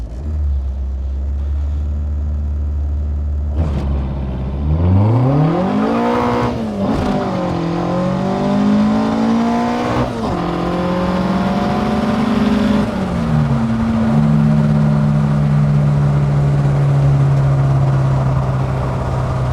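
A modified VW Golf Mk1 engine with stock solid mounts idles, then revs up sharply several times, each rise and fall clearly audible up close, before settling into a higher held rev and dropping back.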